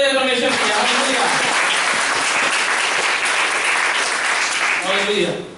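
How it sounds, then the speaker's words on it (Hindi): A church congregation breaks into steady, loud applause during a worship service, with a preacher's voice briefly at the start and end. "किधर ताली बजाए परमेश्वर की?"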